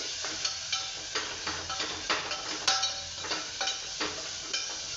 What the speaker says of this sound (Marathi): कांदा टाकते आणि कांदा चांगला आपण परतून घ्यायचा